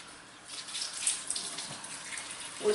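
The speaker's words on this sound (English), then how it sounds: "Now then, let me wash my hands." Tap water runs steadily into a sink as hands are washed in a home kitchen, a soft continuous hiss with light splashing that swells slightly partway through, with no talking.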